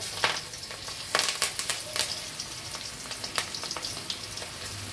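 Tuna fish fries Chettinad style in oil, a constant close sizzle broken by sharp crackles and pops.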